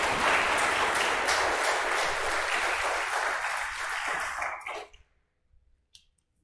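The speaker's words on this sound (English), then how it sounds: "How about a round of applause for our bells?" Congregation applauding the church bell choir during a Lutheran service, dense steady clapping that fades out and stops near the end, leaving quiet with a few faint sounds.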